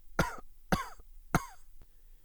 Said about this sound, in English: The lady's voice fought through a few weak coughs.